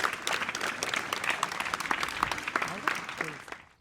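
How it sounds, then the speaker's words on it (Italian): Enthusiastic applause from an audience, dense clapping that carries on steadily, then fades out at the end. "e quindi un grande applauso a Mauro Biglino e Angelo Castaldo."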